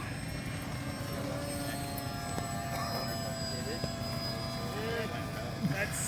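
Aircraft-like whine from the propeller of a small DIY Guillow's SkyStreak model plane, with a plastic bottle mounted at the nose, flying at a fly-in event, heard as a steady drone under outdoor crowd noise and excited talk.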